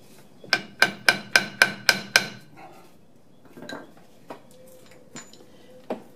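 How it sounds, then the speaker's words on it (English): A hammer pounding a wheel stud into a hub, starting with seven loud, evenly spaced metallic blows close by, then a few lighter, scattered taps and knocks. "the other one loosening up on me here as I pound it in"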